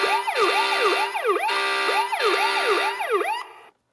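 A 2015 Hess toy fire truck runs its electronic sirens and horn at once: loud, close wailing siren sweeps layered over a steady buzzing horn tone, cutting off abruptly at the end.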